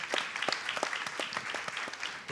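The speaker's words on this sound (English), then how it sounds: "a round of applause for everyone" Audience applause at the Future Health Summit, a dense, steady patter of many hands clapping together in a hall, moderately loud and continuous for the whole stretch with no talk over it.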